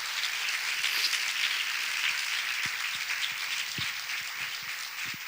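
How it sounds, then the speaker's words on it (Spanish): An audience in Pontevedra applauds the author Marta Sanz at a literary talk, a steady, fairly soft wash of clapping that holds evenly throughout with a few isolated louder claps. "Un aplauso, por favor, para ella."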